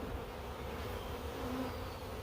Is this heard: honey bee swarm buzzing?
yes